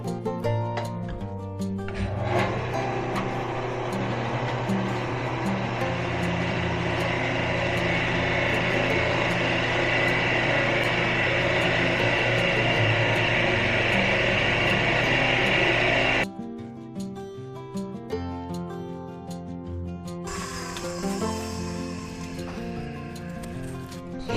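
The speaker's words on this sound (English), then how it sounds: "drilling it a little bit deeper to get my exact depth" A wood lathe running while a 7/8 inch drill bit bores into a turned coffee scoop, a steady loud motor whine and grinding hum for about fourteen seconds, then the machine stops and spins down with scattered clicks.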